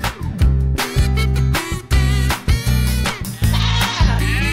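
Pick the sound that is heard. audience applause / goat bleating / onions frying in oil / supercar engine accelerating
goat bleating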